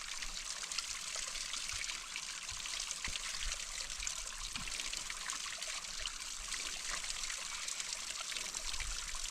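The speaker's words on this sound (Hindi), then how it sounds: "यह है प्राकृतिक नल।" Natural mountain spring water trickles steadily from a rock outlet beside a trail on the Tungnath trek, a continuous close bright splashing dribble with no voices.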